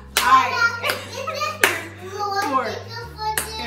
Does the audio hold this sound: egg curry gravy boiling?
no